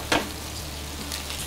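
An egg fried inside an egg ring with spray oil on a hot surface, a soft continuous sizzle with one brief scrape near the start.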